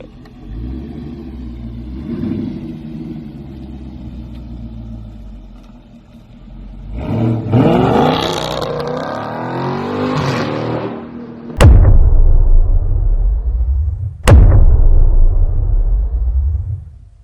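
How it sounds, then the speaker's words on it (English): A 2019 Dodge Charger Scat Pack with a Borla S-Type catback exhaust idles with a deep rumble, then revs up loudly in climbing surges, followed by two sharp cracks and a heavy throaty drone. "my Borla S-Type full catback exhaust system"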